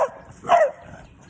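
A dog barks out on a residential street in a San Antonio, Texas neighborhood, giving a couple of short, fairly close yelps or woofs, the second one louder.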